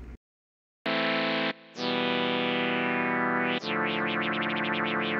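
A synth in FL Studio has its filter cutoff knob automated. It holds a loud, buzzy sustained tone with a brief dip, then the pitch sweeps and warbles up and down in rapid, wavy oscillations near the end.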